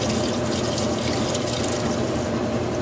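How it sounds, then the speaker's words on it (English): A washing machine on its spin cycle flushes water out to a tank behind a lakeside cottage, producing a steady, loud rushing of water that continues unbroken throughout. "I put it on spin. And that flushes things down the tank out in the back."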